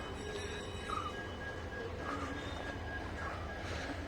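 A locomotive-hauled train at a railway station, with a steady low rumble of rolling stock and faint high wheel squeals over continuous background noise.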